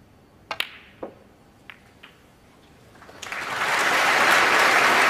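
A snooker audience at the 2018 Masters final applauds a well-played shot: a few sparse, scattered claps at first, then the applause swells into a dense, steady round that carries to the end.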